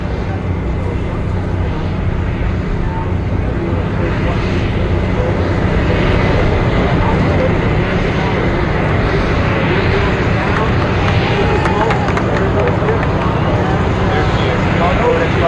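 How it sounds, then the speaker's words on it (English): A British Airways Concorde supersonic jet lands in Rhode Island, its loud, sustained engine roar filling the scene, with a crowd and a commentator talking over it. "Concorde has touched down in Rhode Island."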